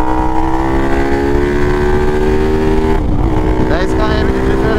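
A motorcycle with a 14/36 sprocket ratio accelerates hard in fourth gear, a loud, close, steady engine drone whose pitch climbs, with a brief dip partway through as it keeps pulling.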